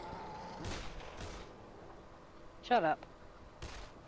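Gunfire in the zombie video game Dead Island, a few sharp shots spread across a few seconds, mixed with players talking over the game.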